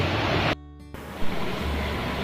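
Sea water surging in and out near a cave by a temple at Pasumalai, Theni, a loud continuous wash of surf with wind rumble and a brief dip partway through.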